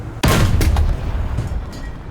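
A single booming tank cannon shot in War Thunder from a T-34 1940, a loud sudden blast with a rumbling tail that fades over about two seconds.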